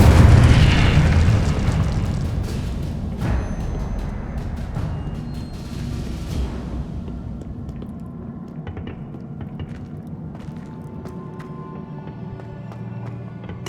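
Fiery spell blast from the Incendio charm in Hogwarts Legacy, a loud booming burst at the start that rolls and crackles, then fades into a lingering low rumble with scattered small pops.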